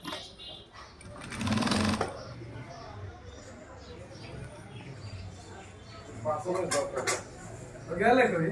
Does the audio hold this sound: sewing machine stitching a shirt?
yes